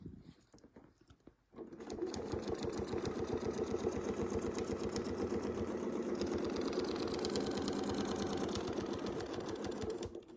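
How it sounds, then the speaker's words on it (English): A sewing machine runs steadily while stitching a design, its fast, even needle rhythm starting after a short quiet pause and continuing loud and close. "now I'm just going to stitch over to the other side"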